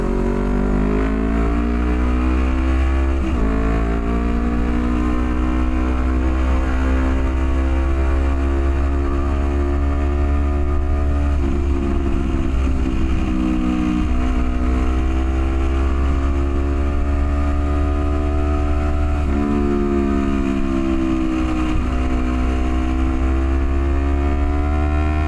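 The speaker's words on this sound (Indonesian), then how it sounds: "Udah lama cok gue gak pakai motor ini." A motorcycle being ridden on a morning ride, its mid-pitched engine droning steadily up close, with gear-change dips and rises in revs as it accelerates, the engine note alone without talk.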